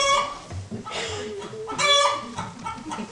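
A backyard hen clucks close by in a few loud, repeated bursts of squawking calls with short pauses between them.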